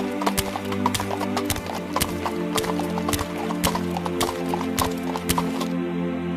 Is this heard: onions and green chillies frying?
no